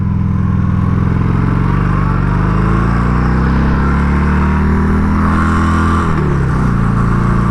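Harley-Davidson Sportster 883 motorcycle riding, its loud, close engine drone holding steady, then the pitch drops near the end as it shifts or eases off, with no talking.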